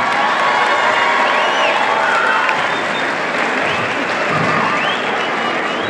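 Loud crowd applause mixed with cheering and shouts fills a bull riding tournament at a fair, a dense continuous roar lasting the whole stretch.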